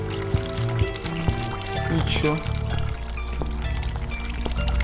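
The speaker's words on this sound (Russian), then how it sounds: "Включить горячую воду." Hot water runs from a tap in The Cat Lady, a steady pouring, splashing stream under game music, with someone speaking briefly partway through.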